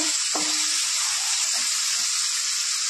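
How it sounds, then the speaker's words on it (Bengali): Tomato cooked down to a paste frying in a pan for Bengali chicken kosha, giving a constant bright, hissing sizzle, close and loud, with a faint stir or two underneath. "একটু ভেজে নেব। নাড়াচাড়াতেই আমার টমেটোটা পুরো পেস্টের মতো হয়ে গিয়েছে।"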